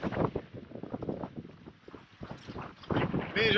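A sailboat under a raised mainsail pushes into a head sea: a steady rush of wind buffeting the microphone with washing, slapping water against the hull, continuous and fairly close.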